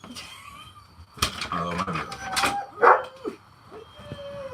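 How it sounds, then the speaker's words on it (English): Dogs barking at a home, short yips and barks scattered among people talking nearby, moderately loud, with a sharper burst midway. "you better get in there or those dogs are going to go nuts"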